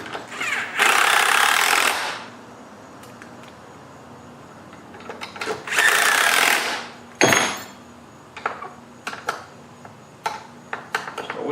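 Screws being snugged into a Stihl MS400 chainsaw with a T-handle tool, heard as scattered close metallic clicks and taps, with two longer bursts of broadband rasping noise between them.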